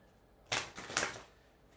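Two quick riffling bursts of tarot cards being shuffled, close and crisp, with near silence before and after.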